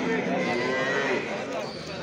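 A cow at a livestock market in Sungurlu, Çorum, lets out a long, low moo close by, sustained for about two seconds before trailing off.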